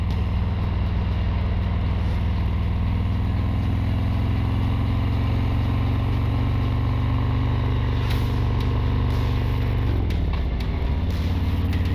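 A Harley-Davidson CVO Street Glide or Road Glide Special engine idles steadily with a deep, rumbling low-frequency throb. It holds evenly for about ten seconds, then the tone shifts and dips near the end, with no one talking.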